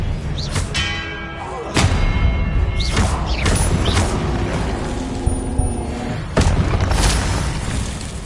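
Spell effects from a Harry Potter video game: a string of deep booms, thuds and whooshing bursts with mechanical creaks, several sharp hits spaced a second or two apart, loud and close.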